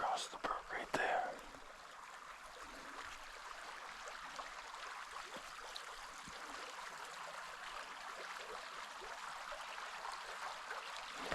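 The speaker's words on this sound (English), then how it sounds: "Across the brook right there." A shallow brook runs steadily at a distance in the woods, a soft continuous trickle and gurgle, with a brief burst of nearby rustling or breath at the start.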